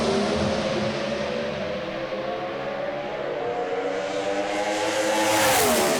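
Pro Stock drag cars at a Sydney East Coast Thunder meet launch near 6,500 RPM and scream up to the rev limiter, a loud, continuous, close engine roar with rising pitch and no talk over it.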